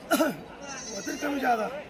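Goats bleating at a busy weekly livestock market in Shirur, Pune, two or three short close bleats over background chatter and talk.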